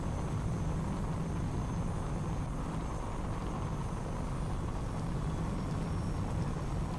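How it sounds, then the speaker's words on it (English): A recon drone flies in the video game Call of Duty: Advanced Warfare, giving a steady, even whirring hum that holds unchanged and without voices. "Recon drone deployed."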